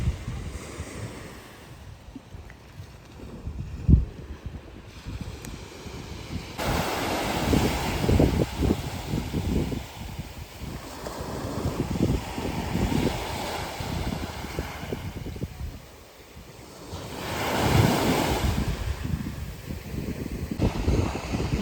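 Surf washes onto the long white-sand shore of Seven Mile Beach, Grand Cayman, in a steady broadband roar that swells and recedes in slow surges, with wind buffeting the microphone and no voices.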